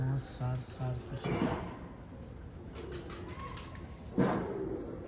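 A pigeon coos a few times nearby, soft low calls with some background noise and a brief thump.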